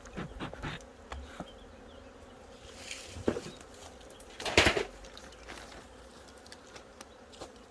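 Honeybees hum and buzz around a hive in an outdoor apiary while colonies are being equalized, with individual bees droning close past amid a steady background buzz and occasional handling noises.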